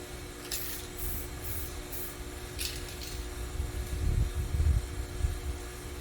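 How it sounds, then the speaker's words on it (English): Aerosol protectant spray on a cable: a few short hissing spritzes from a can, faint against a steady background hum, followed by quiet rustling handling noise. "give the cable that's still black in a couple spots a spritz and let it dry"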